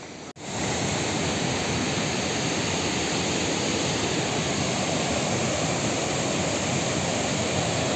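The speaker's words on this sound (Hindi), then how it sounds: "भाई बहुत ऊंचा झरना है, बहुत ऊंचा," A tall mountain waterfall roars in a constant, dense rush of white noise, loud and unbroken after a brief initial dip.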